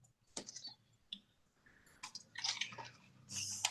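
Spray bottle misting water onto watercolour paper during painting, several short hissy spritzes separated by quiet gaps, close and fairly soft, with small clicks of the trigger.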